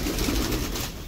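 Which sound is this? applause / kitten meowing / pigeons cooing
pigeons cooing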